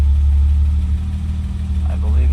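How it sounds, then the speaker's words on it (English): Steady low rumble of a 1991 BMW E30 325i engine idling nearby despite idle trouble from air leaks, with a person talking over it. "The car is idling okay."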